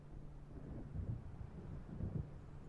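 Deep, rolling thunder from an approaching storm over open water in the video game Alan Wake, with two swelling low rumbles and steady wind-like noise underneath.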